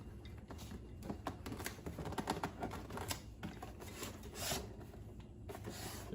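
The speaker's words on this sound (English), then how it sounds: "Got the zip snips ready to go." Zip snips cutting through packaging while unboxing a Ryobi P747 dual inflator, producing a steady run of close, dry rasping cuts and scrapes with no talk.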